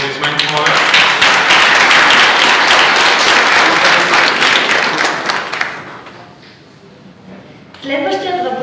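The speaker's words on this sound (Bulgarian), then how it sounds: "Аплодисменти, моля." At a cyber security talk event in Bulgaria, the audience breaks into loud, dense applause that stays strong for several seconds and then thins out and fades. A voice speaks briefly once the clapping has died down.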